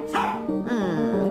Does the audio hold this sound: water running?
no